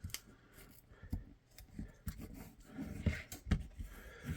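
Scissors snip through holster material along tape lines for an FNX 45 TLR8 pancake-style holster, a string of close, quiet cuts and rubbing scrapes in an uneven rhythm.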